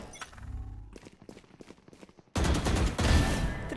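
Video-game gunfire bursts out in quick trick-shot volleys, then a louder, denser rattle of shots follows after a brief lull.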